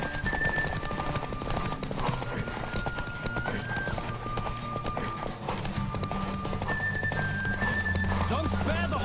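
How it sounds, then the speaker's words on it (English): A horse gallops with rapid rhythmic hoofbeats in The Witcher 3: Wild Hunt, mixed with game music and occasional whinnies, while a voice talks over it. "Don't spare the horse!"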